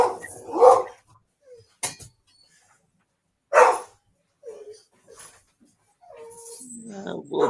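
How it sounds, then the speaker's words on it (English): Several domestic dogs barking in short separate bursts, some sharp and some yipping, with quiet gaps between and a voice murmuring near the end. "Just a small domestic dispute amongst Anthony's dogs."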